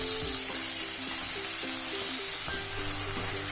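Tomatoes sizzling with onions in a hot pan for a meal maker biryani, a steady bright frying hiss with occasional stirring scrapes, close and continuous.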